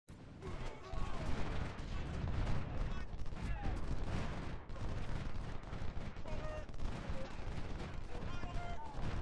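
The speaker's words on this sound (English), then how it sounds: "He was taking fire from all directions." Continuous musket volleys and artillery fire fill a Civil War battle at Second Bull Run in the Ultimate General strategy game, a dense, crackling din of overlapping shots and booms that never lets up.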